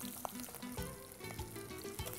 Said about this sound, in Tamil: வெங்காயத்தை முக்கால் பாகத்துக்கு மேலே கொஞ்சம் மேலே வதக்கலாம்